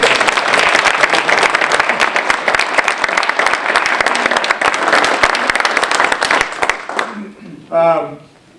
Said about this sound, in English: how about a round of applause for you?